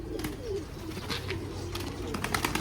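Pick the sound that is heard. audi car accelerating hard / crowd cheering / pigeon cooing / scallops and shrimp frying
pigeon cooing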